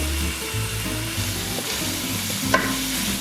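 Onion and celery frying in a pan on very high heat, giving a steady loud sizzle with a low hum underneath and a brief clatter of stirring near the end.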